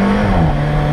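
Alfa Romeo 4C on the Ferté-Gaucher circuit, engine droning loud and steady as it accelerates, its pitch dipping once as a gear change comes through.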